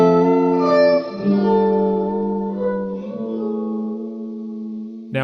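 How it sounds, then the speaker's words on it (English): An Alexander DynaFlanger pedal in its flanger-reverb mode, mix at maximum and reverb time at minimum, gives sustained guitar notes a dreamy swirling, sweeping shimmer that rings out loud and alone, ending with a fresh attack. "one of the modes in here is a combination flanger reverb"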